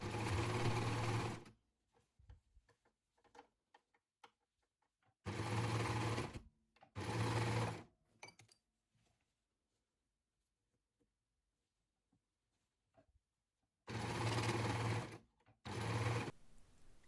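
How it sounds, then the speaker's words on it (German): An overlock serger stitches two dress pieces together in several loud, steady bursts of rapid whirring, separated by quiet pauses filled with faint handling of fabric. "Also ich nähe die beiden Teile nun mit meiner Overlock aufeinander."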